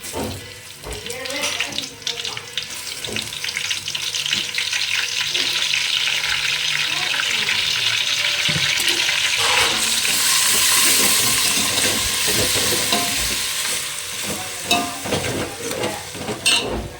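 Ginger garlic paste sizzles steadily in hot oil for chicken biryani, a continuous bright frying hiss with occasional stirring scrapes, loud and close throughout.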